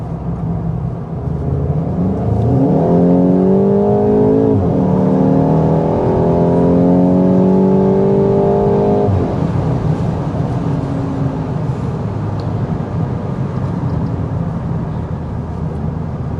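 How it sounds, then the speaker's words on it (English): A 2025 Volkswagen Golf GTI engine revs loudly and close, the pitch climbing through gears, then settles into a deep, steady rumbling drone. "I do love the sound of this vehicle."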